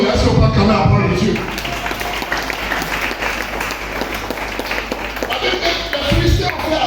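A church congregation applauding the word of God during a service, steady clapping filling the room while a voice carries on over it.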